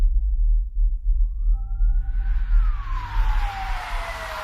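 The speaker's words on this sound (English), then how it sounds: "After an ambulance arrived and took Becky to the hospital" An ambulance siren rises and wails in a long sweeping tone, growing louder over a low rumbling engine or traffic background, with no talking.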